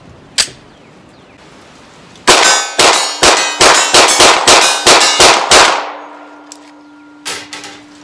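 Rapid string of about ten close, loud 9mm shots from a Stoeger STR9 pistol fired in a quick mag dump at a target 25 yards away, followed by a brief pause and two fainter metallic clanks.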